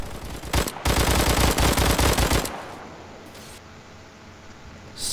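A suppressed weapon fires a rapid, loud automatic burst in the Roblox shooter Phantom Forces, lasting about two seconds before fading into quieter game ambience.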